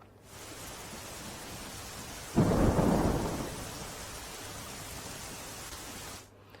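Heavy rain hisses steadily in Gir Gadhada, Gujarat, broken by a loud, close thunderclap that rumbles and slowly fades back into the downpour.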